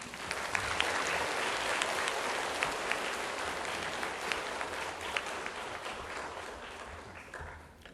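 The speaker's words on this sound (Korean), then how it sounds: "큰 박수로 환영해 주시기 바랍니다" Audience applause in the National Assembly chamber welcoming the Assembly speaker at a children's national assembly event, dense sustained clapping from a large crowd heard from a distance, fading toward the end.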